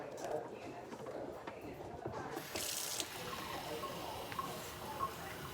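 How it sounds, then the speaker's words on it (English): Tap water runs steadily into a cup to rinse it while making hot chocolate with a Keurig, with a soft continuous splashing and a brief brighter gush partway through. "I'm going to take this cup and fill it with water and kind of rinse the cup out for a second."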